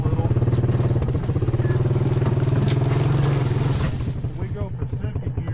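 A Honda Big Red three-wheeler's engine drones loud and close, its steady throbbing rising as the rider pushes on, then turning choppier and pulsing toward the end as the throttle eases.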